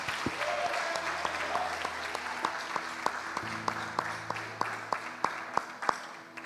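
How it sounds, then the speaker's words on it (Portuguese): A church congregation applauding, with broad crowd clapping that thins toward the end into a few distinct, rhythmic claps while sustained tones hold underneath. "Aplauda Jesus pela vida dela"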